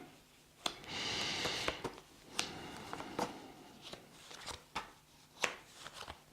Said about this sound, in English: I'll shuffle these old cards now for you